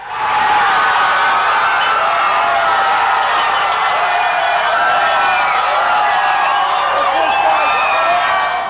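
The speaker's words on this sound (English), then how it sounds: "they haven't stopped cheering since" Baseball fans cheering and yelling outdoors after the Boston Red Sox win the 2007 World Series, a dense, continuous roar of crowd whoops and shouts at a steady high level, close and enveloping.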